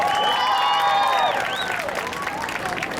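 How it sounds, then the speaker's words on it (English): An audience before a live show claps and cheers, with sustained whooping voices rising and gliding over a steady wash of applause that eases slightly toward the end. "everybody, clap your hands and make some noise"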